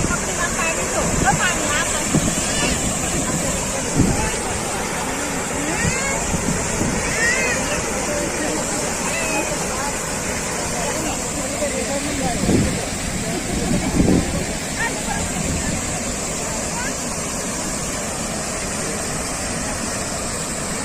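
The Jamjir waterfall at Jamwala in Gir Somnath roars steadily as a dense, broadband rush of falling water, with wind buffeting the microphone and faint voices under it.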